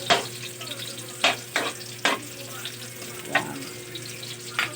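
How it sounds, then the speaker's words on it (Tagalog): Chopped onion being stirred and sautéed in a pan until translucent, for Filipino ginisang monggo: a soft ongoing sizzle broken by several distinct scraping strokes of the spoon. "Isa-isa, halo-halo hanggang sa maging translucent ang ating sibuyas."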